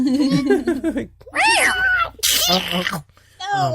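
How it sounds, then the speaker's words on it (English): A cat yowls and screeches in several harsh, wavering bursts with brief gaps between them, loud and close, with some talking underneath. "That's the sound of a cat being skinned."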